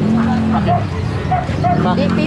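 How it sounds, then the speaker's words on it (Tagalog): A bully-breed dog yips and whimpers in short high bursts while several people chatter close by in a busy setting. "May nakita tayong aso dito."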